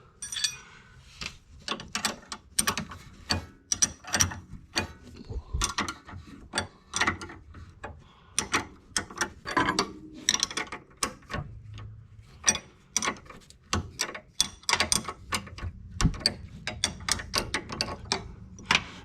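An inner tie rod tool being tightened on a 1997 Honda Prelude: a steady run of sharp metallic ratchet clicks and clunks in quick bursts, close and fairly loud, with no talking.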